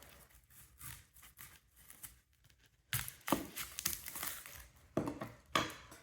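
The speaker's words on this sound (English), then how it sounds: "You start by cutting the onion from root to root in half." A sharp knife slices an onion in half from root to root on a cutting board, giving several crisp crunching cuts that grow louder after the first few seconds, close by, with no speech.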